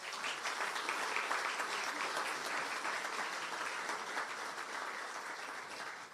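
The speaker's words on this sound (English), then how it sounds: "Let's give them a round of applause, please." At a service excellence awards ceremony, the crowd gives the finalists a sustained round of applause, a steady wash of many hands clapping at moderate volume from a distance.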